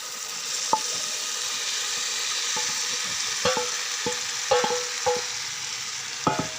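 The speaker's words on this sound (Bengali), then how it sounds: "এখন আমি এই মশলার মধ্যে আলু পটল ছেড়ে দিব।" Pre-fried potatoes and pointed gourd drop into sizzling masala in a pan for a vegetarian curry, followed by irregular spoon knocks and scrapes as they are stirred, all over a constant frying hiss.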